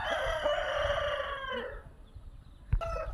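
A native fighting rooster on a village farm gives one long, loud crow lasting about a second and a half, close by, fading into quiet farm background with a faint thud afterward.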